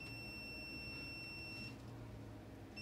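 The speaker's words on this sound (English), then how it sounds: "you can hear that the continuity buzzer goes off" A multimeter's continuity buzzer sounds while probing shorted transistors in a Sony TAN-8550 VFET power amplifier: a steady, faint electronic tone holds for about a second and a half, cuts out, then briefly returns at the end over low hum.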